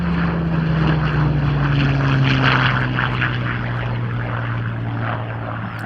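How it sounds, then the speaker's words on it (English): A Spitfire and an Australian Hurricane Mark 12 fighter fly together at the RAAF Edinburgh airshow, a loud, steady propeller-engine drone with a low sustained tone that swells slightly mid-pass and fades a little toward the end. "the Spitfire will join forces with this Hurricane Mark 12, Australia's only airworthy Hurricane"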